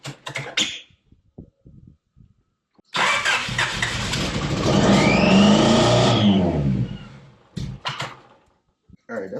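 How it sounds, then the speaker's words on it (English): A car is cranked and started, then revs loud and close for several seconds before settling, with brief talk and clicks before and after; the car is a Honda Prelude project being brought back to life. "And we finna start it."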